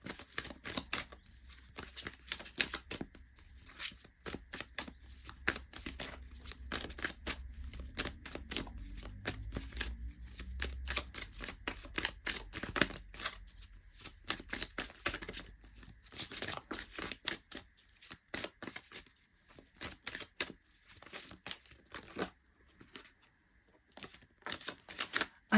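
Tarot cards being shuffled by hand in rapid, dense flurries of crisp flicking and riffling, close and continuous with brief pauses, and no talking.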